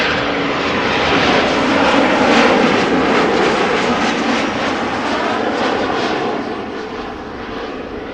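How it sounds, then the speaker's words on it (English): A KLM Embraer 190 jet airliner arriving at Amsterdam Schiphol on a flight from Dublin, its engines giving a loud, steady broadband roar that swells and then eases slightly toward the end. "Embraer 190 arriving from Dublin, KLM flight 934"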